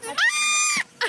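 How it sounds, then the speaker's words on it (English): A goat gives a loud, close, quavering bleat lasting over half a second, followed by the start of a second cry. "I want a pet goat."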